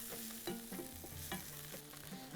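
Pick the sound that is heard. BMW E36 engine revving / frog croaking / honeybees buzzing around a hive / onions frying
onions frying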